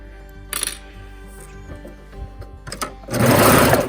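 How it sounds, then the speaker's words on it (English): Sewing machine stitching tee shirt sleeves, opening with scattered clicks and handling noises before a loud, close motor whir starts near the end. "Just getting a few stitches in before I start screwing around with my fabric."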